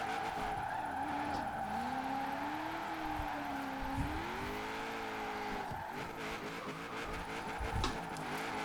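Tires squeal steadily as a Chevrolet Impala SS drifts in Forza Horizon 4, a long wavering screech that rises and dips over the engine drone, with a couple of brief thumps between slides.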